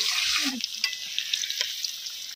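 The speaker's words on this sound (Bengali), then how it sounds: "তো চিকেনের পাতলা ঝোল বানানোর জন্য মা প্রথমেই আগে আলুগুলো ভেজে নিচ্ছে।" Potatoes fry in a pan for a thin chicken curry, a close steady sizzle with a few scrapes and stirring clinks early on, then continuing sputters with no one talking.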